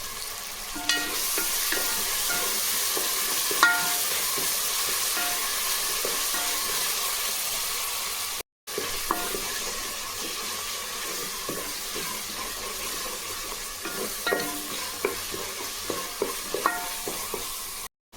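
Ingredients are sautéed and stirred in a cooker pot, making a steady frying hiss broken by repeated close scraping and clinking from the spoon, with a short gap partway through.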